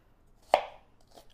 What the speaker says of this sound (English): now I'm going to chop up my onion on a clean cutting board